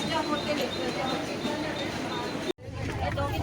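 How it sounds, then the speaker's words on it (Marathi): Steady rumble and rattle of a moving train carriage, continuous and fairly loud, with a brief dropout near the end. "मी ट्रेनमध्ये सध्या आहे"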